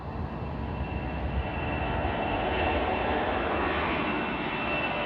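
Engines of a Boeing C-17 military transport aircraft running before takeoff, a loud, steady roar and whine that holds constant throughout, close and with no voices.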